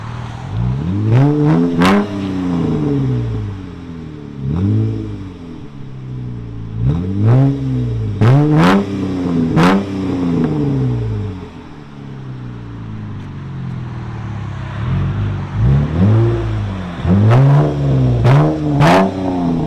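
Car exhaust revving in repeated loud bursts, each rev climbing and falling in pitch, with a steady idle rumble between them and no talking.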